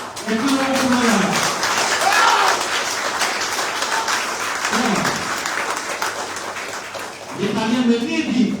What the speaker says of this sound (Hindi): ये तालियां मिलनी थी